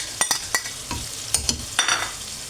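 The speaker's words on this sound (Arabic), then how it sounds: "ونقلي مليح مع الرجل تاع الفخر تاع الدجاج" Tomatoes are fried with chicken thighs in a pan, soft sizzling under a series of short stirring scrapes and clinks, close and fairly quiet.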